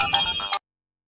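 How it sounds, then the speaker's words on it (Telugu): A phone ringtone sounds in one short, bright tonal burst lasting about half a second, then cuts off into silence. "ఉండు, ఇప్పుడే రింగ్ చేస్తాను."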